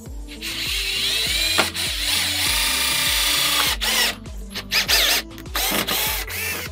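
A power driver sinks a screw into the motor of a semi-automatic washing machine during a wash and spin motor swap. It gives repeated close, loud whirring bursts with a stepped, ratcheting pulse and short pauses, and no one speaks.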